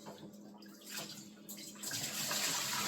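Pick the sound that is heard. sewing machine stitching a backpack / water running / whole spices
water running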